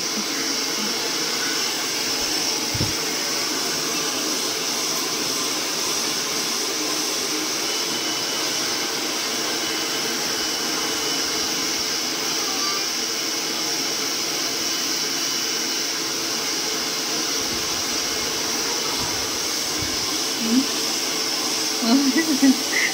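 A steady, loud blowing roar runs throughout, like a hair dryer on high, with a few faint background noises near the end.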